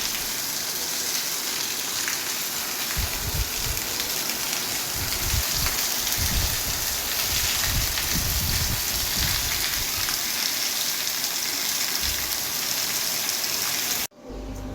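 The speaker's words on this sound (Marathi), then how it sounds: "बघा पाऊस वाढलेला आहे." Heavy rain pours steadily on open farmland where a tractor and seed drill stand, a dense continuous hiss with low rumbling gusts, ending abruptly near the close.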